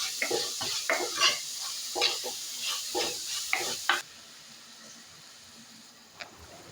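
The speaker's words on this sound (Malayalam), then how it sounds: "രണ്ട് സവാള ചെറുതായിട്ട് അരിഞ്ഞിട്ട് പൊടിയായിട്ട് അരിഞ്ഞിട്ട് അതും കൂടെ ഇട്ട് കൊടുത്തിട്ട് നന്നായിട്ട് വഴറ്റിയെടുക്കണം" Chopped onions sautéing in hot coconut oil with curry leaves, a close, crackling sizzle broken by repeated stirring scrapes for about four seconds, then dropping to a faint low hiss with one brief clink near the end.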